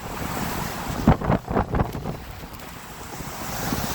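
Rough Gulf of Mexico surf crashes close by under strong gusting wind, with a few louder wave surges and heavy wind buffeting on the microphone throughout.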